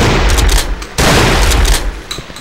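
Shotgun blasts in the horror video game Cry of Fear, two heavy booming shots about a second apart, each with a long rumbling tail, loud and close.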